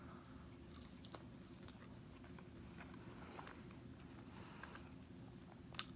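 Fries being bitten and chewed close to the mic during a fast-food eating session, with soft wet crunching and munching over a low background hum, a few sharper bites standing out.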